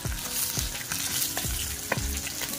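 Fish pieces frying in hot oil in a pan, a continuous close sizzle and crackle with a few soft clinks of stirring underneath.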